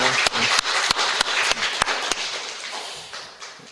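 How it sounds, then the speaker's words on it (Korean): A church congregation applauds during a Sunday worship service, a dense patter of clapping punctuated by several sharp, louder individual claps, gradually fading toward the end. "박수 한번 주세요."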